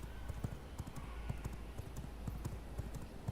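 Horse hooves clip-clop in a steady trotting rhythm in V Rising, a vampire survival video game, as a mount with maxed-out stats runs along, with a low constant background hum underneath.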